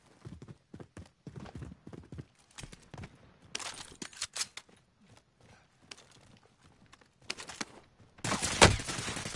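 Gunfire in Call of Duty Warzone comes as repeated sharp shot bursts, some rapid and clustered, ending in a loud close volley, with game movement sounds between.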